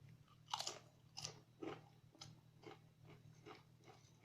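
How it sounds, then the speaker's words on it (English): Crunchy crisps being eaten close up, with a series of sharp crunches and bites at a steady chewing rhythm, fairly quiet overall over a low background hum. "This is me eating crisps."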